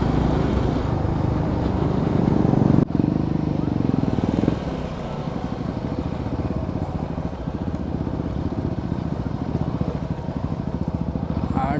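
A BMW S1000RR motorcycle rides over a rough, badly made road, its engine droning steadily and close throughout, with a louder surge in the first few seconds before it settles into an even, rumbling run.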